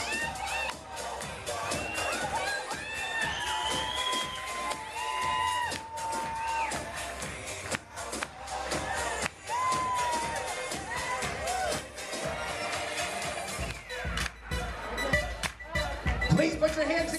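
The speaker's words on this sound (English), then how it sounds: "having a nice round of applause" A wedding reception crowd claps and cheers as the bridal party is introduced at a country club, a steady din of applause with whoops and a host's voice over it throughout.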